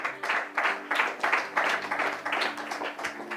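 A church congregation claps in a steady, rhythmic beat of roughly three claps per second, moderately loud and close, with no talk over it.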